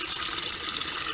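Rainwater pours steadily into a chicken waterer at a backyard coop, a continuous close gushing and filling sound with no pauses or talk.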